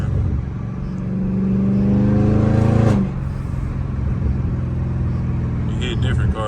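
A catless Dodge Charger Scat Pack in traffic gives a loud, rising engine rev with a sharp gear shift at about three seconds, then settles into a steady exhaust rumble. A voice runs under it.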